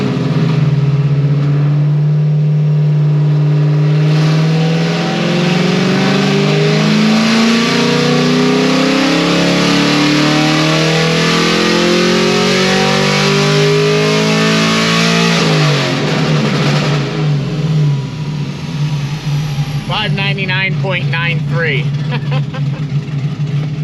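A car engine with new heads and cam, running on 45% ethanol, revs hard through a long dyno pull, a loud, close, climbing roar that drops away and settles into a rough, rumbling idle.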